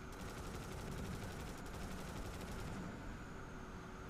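Continuous rapid gunfire-like bursts from cannons in the racing game BallisticNG, loud and dense throughout, cutting off abruptly near the end.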